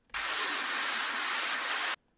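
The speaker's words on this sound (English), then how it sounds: "And then we have various downlifter effects." A dense burst of white-noise whoosh, a downlifter effect in a progressive house track, holds steady for nearly two seconds, then cuts off abruptly, like a synthetic sweep effect.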